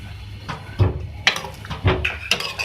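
Spoon stirring red chilli powder into masoor lentil dal in a pot, a series of sharp metallic scrapes and clinks in an irregular rhythm, close and fairly distinct.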